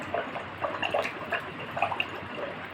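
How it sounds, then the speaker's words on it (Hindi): Continuous bubbling as air is blown through a thick pipe into a small amount of water in a glass during a breathing exercise, a steady close gurgle with no talking. "और फिर आपको क्या करना, कंटिन्यूस बबल करना कर दो"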